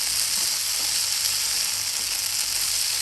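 Okra and tomato sauté in hot oil for a Kerala sambar, giving an even, loud frying sizzle that holds steady without pause, with no talk.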